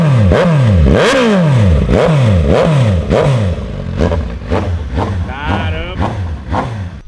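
A Kawasaki Z900 naked motorcycle engine revs hard in repeated sharp bursts, each rising and falling quickly, close and loud, then settles into quicker, lighter throttle blips.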